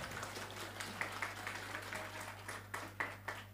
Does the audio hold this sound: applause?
yes